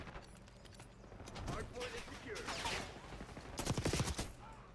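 Gunfire in Black Ops 6, a video game, comes as scattered quick bursts of shots, moderately loud and busiest toward the end, with voices talking over the action.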